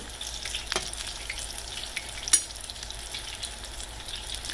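Apple fritters fry in hot oil with a steady crackling sizzle, close and even, broken by a single sharp click partway through.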